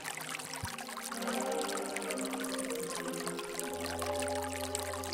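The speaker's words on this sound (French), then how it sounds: "Elles créent de petits ruisseaux." Steady trickling and pouring water, a continuous close-up burble of a small stream flowing over stones, with no voices.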